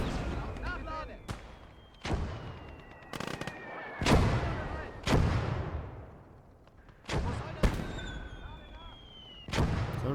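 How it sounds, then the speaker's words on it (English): Mortar rounds in the video game Call to Arms Gates of Hell Ostfront thump and crack again and again, about ten sharp booms with rumbling tails spread irregularly, while someone talks between them. "So I'm just going to start counter-mortaring."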